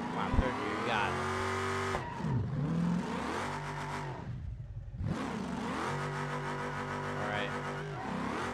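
A purple car in BeamNG.drive, with a blown head gasket, revs hard through its gears: the engine note climbs, drops at each shift, and climbs again, with brief tyre squeal.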